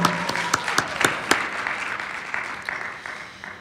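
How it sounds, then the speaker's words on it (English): Crowd applause at a podcast finale party, opening with several sharp, distinct hand claps before settling into a steady, moderately loud patter of many hands clapping in a room. "let's give Patty a round of applause, and Courtney as well"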